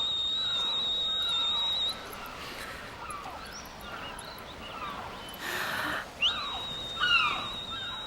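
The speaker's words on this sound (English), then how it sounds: "Because she's whistling and he didn't come back." Yuna whistles in a Final Fantasy X cutscene: a clear, high, sustained whistle that stops, leaving quiet ambience, then returns with sliding, bending notes near the end.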